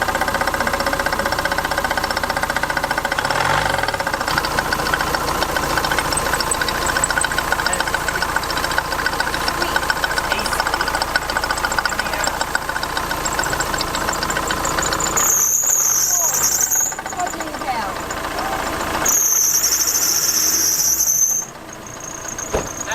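Camper van engine idling steadily with a low mechanical rumble and rattle, later joined by two bursts of a high, sharp squeak close by.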